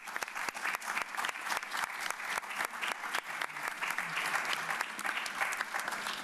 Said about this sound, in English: Can we all give a round of applause for this huge accomplishment?